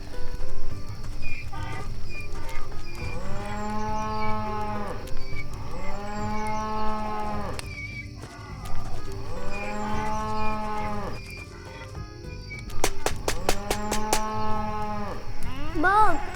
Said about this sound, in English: Auntie Abby, where do you want me to put the cow